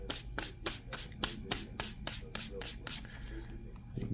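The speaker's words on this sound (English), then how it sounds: "Basically what I'm going to do is I'm going to sand all these edges down again." Sanding strokes along the edges of a leather three-pocket card wallet, a steady rhythmic back-and-forth rasp of about a dozen close, fairly loud passes that slows and fades near the end.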